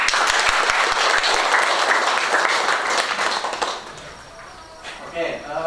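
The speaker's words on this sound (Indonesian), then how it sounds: "Kelas ini beri tepuk tangan untuk kalian." A classroom of students claps for themselves during a school lesson, a few seconds of brisk group applause that quickly dies away into quiet room noise and a faint voice.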